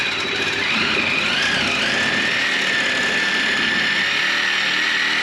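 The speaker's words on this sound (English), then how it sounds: "I'm going to grab my Sawzall and we're going to try and square that up." A Sawzall reciprocating saw cuts into a suspension part on a 1989 Mazda B2200 pickup, a loud, steady, continuous buzzing whine that holds for several seconds with no talk.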